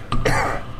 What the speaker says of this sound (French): Depuis combien de temps avez-vous attrapé cette toux ?